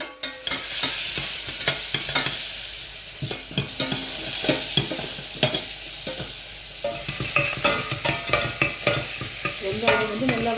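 Onions sauté with salt in a hot pan under a continuous sizzle, while a spoon stirs and scrapes them in repeated sharp clinks and scrapes, close and fairly loud.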